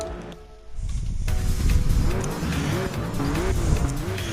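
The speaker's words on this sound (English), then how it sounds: "I'm in the Castrol Celica, one of the only all-wheel drives on the track." A Castrol Toyota Celica all-wheel-drive race car roars in a racing video game on a Brazil track, engine revving up loudly after a quiet start, with wavering tire squeal and skidding as it pulls away.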